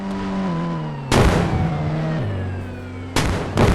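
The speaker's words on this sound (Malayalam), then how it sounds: "ഇപ്പോൾ നമുക്ക് വെടി കൊള്ളാൻ തുടങ്ങി" Sharp, loud gunshot blasts in the video game Indian Bike Driving 3D punctuate a droning engine-like hum, with two bursts a couple of seconds apart.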